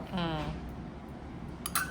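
A spoon stirs a milk mixture in a bowl for microwave thiratti pal, with faint scraping under a voice and then a couple of bright clinks against the bowl near the end.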